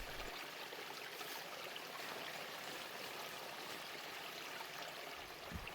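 A small mountain stream flows in an even, continuous rush of water, close and steady, with no voices.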